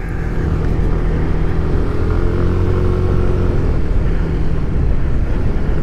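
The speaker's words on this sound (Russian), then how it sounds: "Звук немножко у двигателя другой, он более немножко басовитый" A 2019 Yamaha Tricity 125 scooter's small engine runs with a steady, low, throaty drone, loud and close, holding an even pitch throughout.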